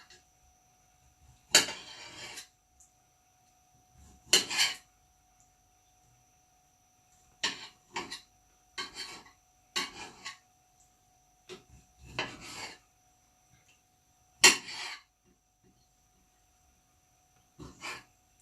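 A big, sharp kitchen knife cuts chicken into fairly large chunks on a board for a Chinese chicken dish: about ten separate rasping strokes in uneven bursts, close and moderately loud, with quiet gaps between them.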